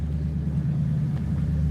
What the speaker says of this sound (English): Damn, that truck loud.